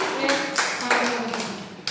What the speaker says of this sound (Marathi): टाळ्या वाजवा रे सगळ्यांनी